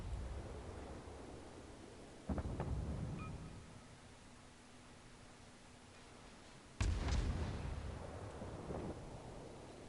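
Naval gunfire in the World of Warships video game: two heavy, booming blasts several seconds apart, each with a rumbling tail fading into a low ambient hum.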